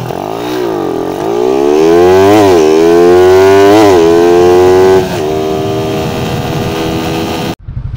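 A Suzuki Raider 150 motorcycle engine revs loudly and close, climbing through repeated rising surges before dropping to a rough idle, then cutting off abruptly near the end.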